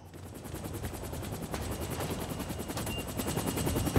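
Helicopter in the video game Werewolf: The Apocalypse, a steady rapid rotor chop throbbing loudly and close, growing slightly stronger throughout, with no voices.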